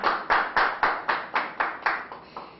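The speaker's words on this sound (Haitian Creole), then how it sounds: "Pendant la campagne, nous allons applaudir." Audience clapping in unison at a church gathering: about nine evenly spaced, fairly close hand claps in a steady rhythm, with no talk over them.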